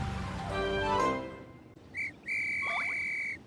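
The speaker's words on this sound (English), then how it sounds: "Suddenly, Kip heard a loud whistle." A loud whistle blown as a story sound effect, a sharp steady high tone in two bursts, the second longer with a brief warble, following a fading earlier sound.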